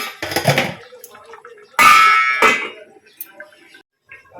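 A metal lid lands on a cooking pot of rohu fish curry with cauliflower and potatoes, giving one bright ringing clang up close, with shorter knocks and handling sounds around it and brief voice-like sounds nearby.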